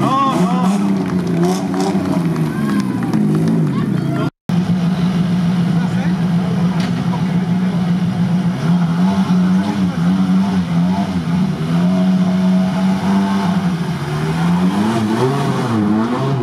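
Rally car engines at the Rally Liptov 2024 ceremonial start drone and rev up and down near the podium, with an announcer talking over the crowd throughout.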